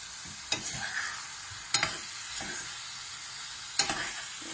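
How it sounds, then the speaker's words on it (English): Jackfruit vindaloo curry with apple cider vinegar stirred in a pan, a soft continuous sizzle broken by three sharp spoon scrapes against the pan at irregular intervals, close and fairly quiet. "Keep stirring."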